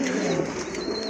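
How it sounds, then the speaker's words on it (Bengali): A pair of pigeons at a bird sale cooing softly in a low, continuous murmur, close and steady with no voices over it. "খুবই সুন্দর এক জোড়া কবুতর"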